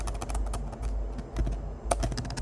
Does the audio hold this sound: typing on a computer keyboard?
yes